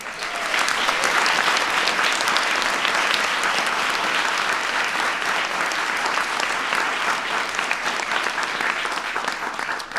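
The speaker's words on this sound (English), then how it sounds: "big round of applause" Dense, sustained applause from a large audience at a White House science fair, steady and loud throughout with no speech over it.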